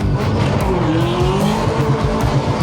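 A 1,000-horsepower muscle car with a full spool does a burnout, its engine roaring steadily while the tyres spin and squeal continuously throughout, loud and close with no pauses.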